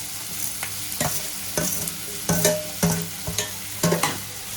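Tomatoes sizzle and fry in a hot pan while a spoon scrapes and stirs in short, irregular bursts, up close with no talking.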